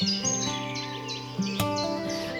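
Magpies calling by a lake in China, a string of harsh chattering and chirping calls that rise and fall, fairly close and clear, with a sharp burst near the middle.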